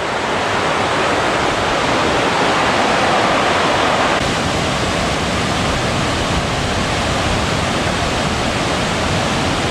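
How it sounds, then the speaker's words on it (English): Loud, steady rush of water pouring out of the ground, a continuous broadband gush with no pauses and no voices. "look how beautiful that is with the water just coming out of the ground"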